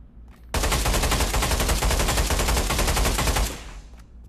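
Tactical AK rifle in the Pavlov video game fired on full auto, a loud, dense three-second burst of rapid shots that cuts off sharply and fades.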